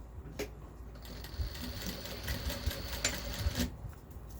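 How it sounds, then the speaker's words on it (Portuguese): Sewing machine stitching fabric for a lunch bag in a steady, rapid, rhythmic run of needle clatter, close and moderately quiet, starting and stopping cleanly with no talking. "E aqui eu faço uma costura com o pé de máquina."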